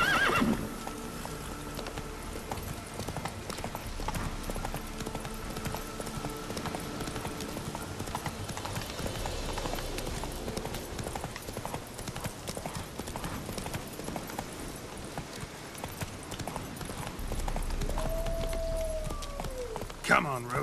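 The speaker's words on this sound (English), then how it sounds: "Run, Roach." Horse hooves clip-clop at a steady galloping rhythm in The Witcher 3 video game, with occasional neighing and whinnying over game ambience and background music.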